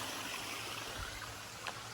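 Steady broadband rush of a stream flowing beside a hiking trail on the Appalachian Trail, a continuous moderate wash of water near a pool with no voices.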